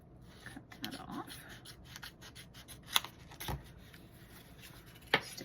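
Scissors snipping paper for a creative journal, quiet intermittent cuts and rustles with a few sharper clicks of the blades, close and faint.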